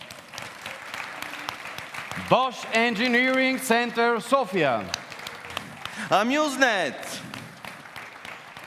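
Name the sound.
audience applause for conference sponsors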